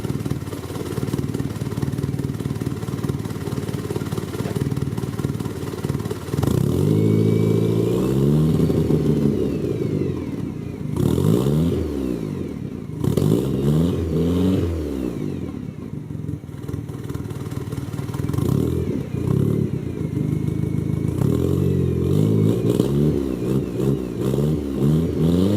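A Colt Lancer Turbo EX2000 fitted with a 2.5 inch stainless steel exhaust, revved repeatedly, each throttle blip rising and falling in pitch over a steady, loud idle rumble, with no talking.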